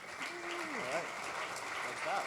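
Faint, distant applause from an audience at a hacker conference badge presentation, a soft continuous patter beneath a voice speaking into a microphone.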